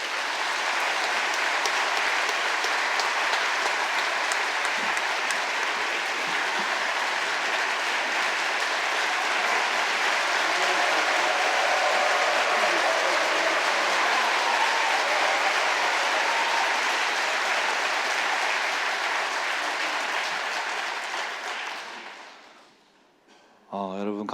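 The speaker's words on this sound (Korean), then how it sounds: "우리 박수로 한번 맞이하실까요?" Loud, sustained applause from an audience at a church pastor's installation ceremony, steady clapping for over twenty seconds before tapering off near the end.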